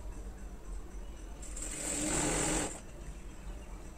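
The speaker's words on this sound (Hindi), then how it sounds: "इस तरह से स्लीव्स से सिलाई लगाना शुरू करेंगे और इस तरह से सिलाई लगाते हुए जाएंगे।" An electric sewing machine stitches a kurti starting from the sleeves, giving a steady mechanical whir that swells louder for about a second in the middle before settling back to a low running hum.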